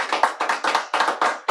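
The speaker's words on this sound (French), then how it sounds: "J'entends des applaudissements." Quick bursts of clapping from a small group at an evening couples' game night, rising and falling in short waves without any talk.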